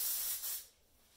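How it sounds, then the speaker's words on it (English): John Frieda firm hold hairspray sprayed onto hair at close range, a single soft hissing burst of aerosol lasting under a second, then trailing off into quiet. "when I spray my hair"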